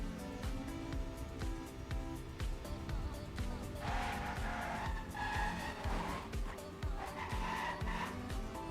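Race cars roar through a British Grand Prix circuit in a racing video game, with engines droning continuously and tires squealing through the corners, layered and busy throughout, with a commentator talking over the action.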